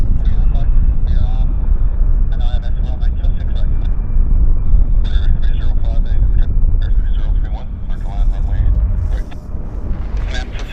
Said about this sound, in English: That's reverse thrust, throwing dirt up off the runway.